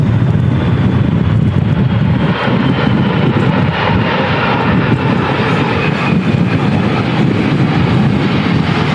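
An airliner lands at Manchester Airport in a storm with strong crosswinds. Its engines make a loud, continuous roar close by, mixed with heavy wind buffeting on the microphone.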